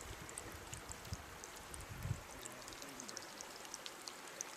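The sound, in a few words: spring water bubbling up out of the ground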